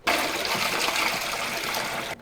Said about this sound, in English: Okay, now I'm gonna pour it back out.